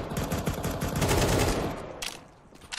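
Rapid automatic gunfire rattles during a professional Counter-Strike match between FURIA and Heroic, with loud, dense bursts that ease off and then return in sharper shots near the end.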